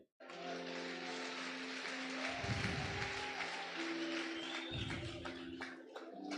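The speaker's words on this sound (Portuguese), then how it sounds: "Aplauda Ele." A worship congregation applauds during a church gathering, continuous clapping layered over sustained keyboard or organ tones and low musical notes that swell and drop.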